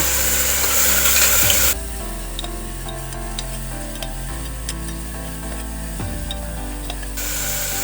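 Coriander and spices roasting in a pan for a vegetarian thali, a steady sizzling hiss with scraping stirs, loudest at the start and end and softer through the middle, with no voices.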